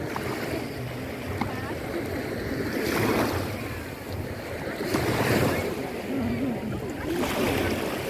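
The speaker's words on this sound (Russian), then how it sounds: "Смотрите, какие яхты, такое море." Sea waves wash ashore at the Lazurnoye beach with yachts offshore, surging every couple of seconds in rolling bursts under steady wind buffeting the microphone.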